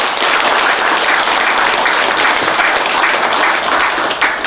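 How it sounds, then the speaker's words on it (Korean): Sustained, dense applause from a large audience at a Buddhist college graduation ceremony in Korea, steady and loud throughout with no voices over it. "감사와 성원의 큰 박수 한번 보내주시기 바랍니다"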